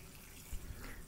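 Tap water runs steadily into a sink while raw chicken is rinsed under it, a soft continuous splashing hiss with a brief louder gush, close by and without talk.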